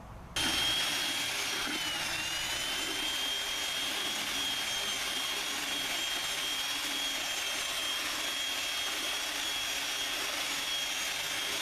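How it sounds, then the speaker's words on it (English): A drill fitted with an old saw blade churns sawdust and water into a pasty paper pulp, giving a steady, loud, continuous whine and roar that runs unbroken from start to finish with no talking. "we use an old saw blade on the end of a drill, then we blend it up into a nice pasty pulp"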